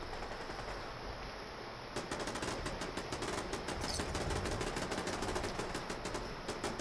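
Video game turret gunfire, fast repeated mechanical bursts of shots that grow denser and louder after a quieter start, continuous and without talk.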